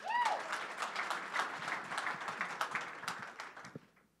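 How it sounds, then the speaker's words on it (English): Audience members at a startup pitch event applaud a presenter, clapping that rises at once and then tapers into scattered individual claps before fading to quiet. "Round of applause for Alandis."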